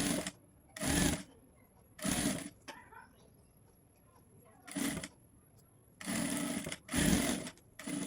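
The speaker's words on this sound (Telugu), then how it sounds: "ఇట్లా ఫోల్డ్ చేసి అంచుకి కుట్టుకోవాలండి" A sewing machine stitches along the folded edge of a halter neckline, several short loud bursts of rapid stitching separated by quiet pauses with faint handling sounds, heard up close.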